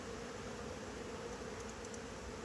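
Honey bees in a newly set up nuc hive give a steady, close, continuous buzzing drone that fills the whole stretch without pause, with no voices.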